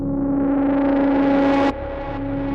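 A menacing, distorted synth patch from Native Instruments Komplete 9 drones steadily with a rising sweep, then drops abruptly and continues at a lower level, alone with no talk.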